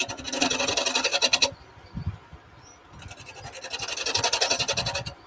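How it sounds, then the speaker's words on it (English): Hand woodworking while cutting away a tenon: two bursts of rhythmic scraping, rasping strokes, close and fairly quiet, separated by a short pause with a few soft knocks. "I'm taking the tenon off."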